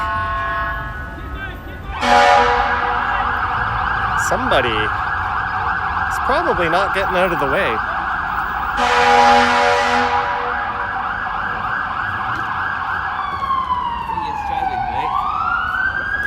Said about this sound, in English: That's a very loud fire truck.